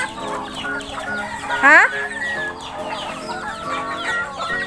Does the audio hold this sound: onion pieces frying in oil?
no